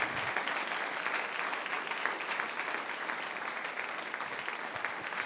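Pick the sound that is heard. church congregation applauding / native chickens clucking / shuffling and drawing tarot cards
church congregation applauding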